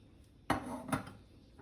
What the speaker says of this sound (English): we've placed a frying pan on the stove and she's going to add some vegetable oil